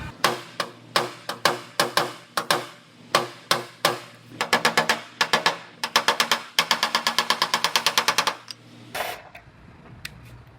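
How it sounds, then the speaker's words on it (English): Sharp metallic hammer blows ring out on a car trunk lid edge, first spaced singly, then in quick steady bursts of rapid strikes on sheet metal, close and loud. "I'm going to go ahead and hammer that out and get the metal straightened out first."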